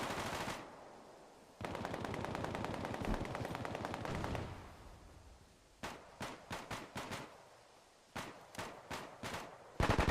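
Automatic gunfire in the Bellum video game: long sustained machine-gun bursts, then a pause and a series of sharp, separate rapid shots in clusters, loud and close with no talk.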